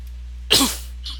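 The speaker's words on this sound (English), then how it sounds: "That was a cough." A single sharp cough bursts out during a podcast conversation, close and brief, followed by a fainter breathy sound shortly after, over a low steady background hum.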